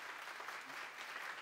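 Faint, steady clapping from a church congregation during a sermon, a soft even patter lasting the whole moment with no voices over it.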